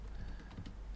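Keys tapped on a computer keyboard in a quick, steady run of soft clicks, close by and alone over a low background hum, with no talking.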